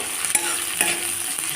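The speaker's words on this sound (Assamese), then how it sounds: "পিঁয়াজখিনি এতিয়া অলপ ৰঙচুৱা হোৱালৈকে ভাজি ল'ম" Chopped onions frying and being stirred in a pan of oil while cooking a duck curry, a steady close sizzle with a few louder scrapes of the spatula, no talking.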